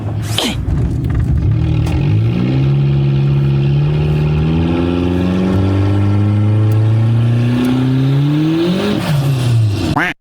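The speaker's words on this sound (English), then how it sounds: "And that turbo spools. No blow-off valve needed." Turbocharged Toyota Camry engine pulls hard under acceleration, its tone climbing through the gears with a rising turbo whistle and whoosh, loud and close from inside the car, with no talk over it.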